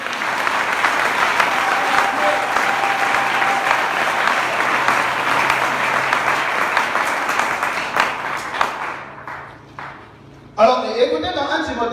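Church congregation at a seminar in Congo, applauding and cheering together in a loud, sustained wash of clapping that fades out near the end before a voice takes over.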